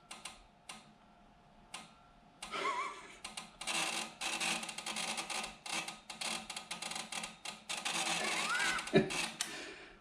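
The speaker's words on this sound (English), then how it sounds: "One very angry sounding turn signal relay." Relay of a classic BMW clicking as the turn signal runs in a workshop, a busy, rapid ticking that starts sparse and becomes a dense, harsh chatter, loud and close with no talk.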